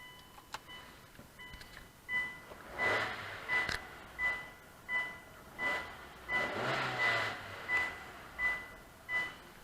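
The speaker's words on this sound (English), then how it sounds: "so we don't have that buzzer in the background" Door-open warning chime in a 2007 Hyundai Tucson GLS: a quick, regular string of identical electronic tones repeating about twice a second, close and clear, with a faint low engine hum underneath.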